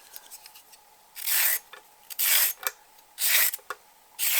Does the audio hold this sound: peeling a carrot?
yes